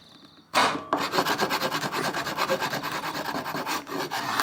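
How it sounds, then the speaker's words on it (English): A tool scrapes burr comb off the top bar of a wooden beehive frame in steady, rapid rasping strokes, close and continuous after a sharp start, with no one talking. "there's a bit of burr comb on top of this, so I'm just going to scrape that off"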